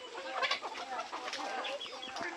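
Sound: chickens and rooster clucking

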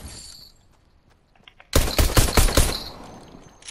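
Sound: gunfire shooting at a tree in Fortnite video game

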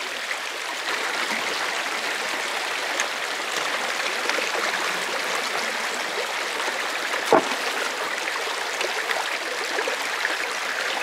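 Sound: water running through a gold prospecting sluice

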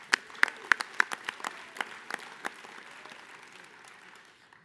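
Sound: audience applause for speaker Jesse

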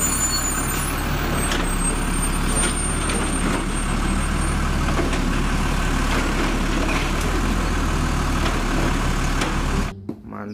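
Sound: garbage truck engine running

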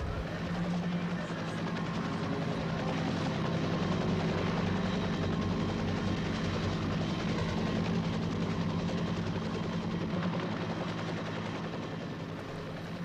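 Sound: armed military helicopters flying over the area

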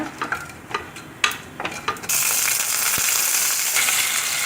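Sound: mustard seeds and urad dal frying in hot sesame oil

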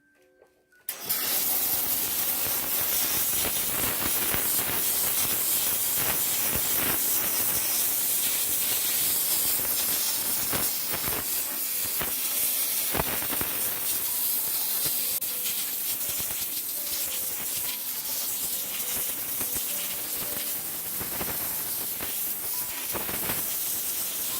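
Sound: Kiwi steam cleaner with hose nozzle steaming a radiator

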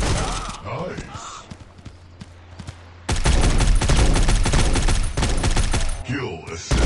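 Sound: gunfire in the video game Guns of Boom

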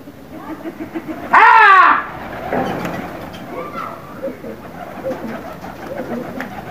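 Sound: pigeons cooing

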